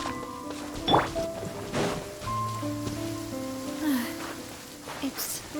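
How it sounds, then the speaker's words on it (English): Rain falls steadily in the Genshin Impact video game, a soft constant patter with occasional drips, layered under game music and brief vocal sounds. "It's raining again."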